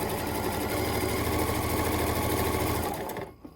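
Sewing machine stitching a small Dresden Plate quilt blade at a short stitch length, a close, steady rapid mechanical whirr that runs continuously and then stops abruptly near the end.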